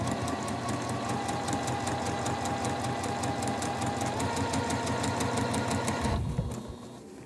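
A sewing machine stitches a quilt block in a fast, steady, rhythmic run of needle strokes for about six seconds, then stops abruptly, leaving only quiet room sound.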